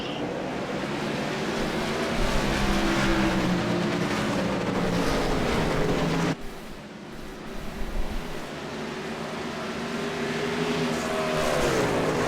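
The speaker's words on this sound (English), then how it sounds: "Green flag is out, we're racing at Gideon Motorsports Park here in Canada." Race cars under a green flag at Gideon Motorsports Park in Canada, several engines roaring and revving together as the pack passes, loud and continuous with a brief dip midway.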